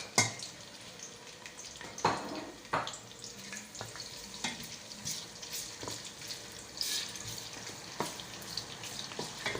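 Chopped onion and garlic sizzle in hot cooking oil for pancit guisado, a steady crackling fry with scattered clinks and stirring sounds throughout, moderately close.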